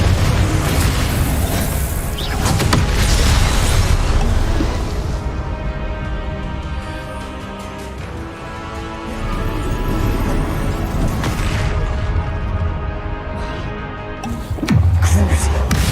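Repeated booming blasts from spell combat in the video game Hogwarts Legacy, dense and loud throughout over a busy game soundtrack, with shouted voices mixed in.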